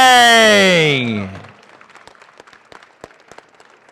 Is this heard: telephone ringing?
no